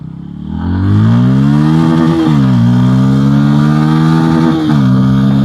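A 160cc city motorcycle engine holds a loud, close drone at top speed on an Indian road, its steady hum rising and dipping slightly with throttle changes and wind rush around it.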